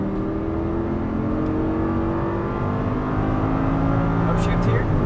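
An Audi R8 V10 with 525 horsepower accelerates hard on a track, its engine a loud, rising roar that climbs in pitch throughout.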